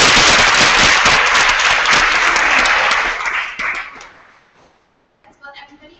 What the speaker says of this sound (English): deserves a big round of applause